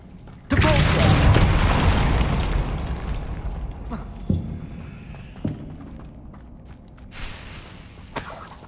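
A Depulso force spell in Hogwarts Legacy lands as a loud, sudden boom with a crashing, shattering burst that decays over a couple of seconds, followed by a few lighter thumps and pops.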